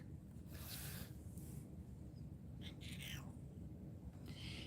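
A pet cat gives a few faint, short meows over a steady low background hum, with quiet gaps between the calls.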